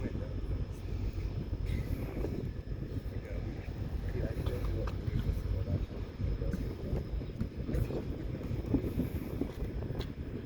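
Strong outdoor wind buffets the microphone during a live fire behavior training exercise, a dense continuous low rumble with gusty surges and faint voices underneath.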